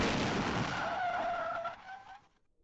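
Generated sound effect of a car skidding with tyre squeal into a crash and braking, loud and close at first, then fading out quickly to silence near the end.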